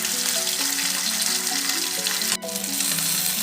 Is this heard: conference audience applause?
no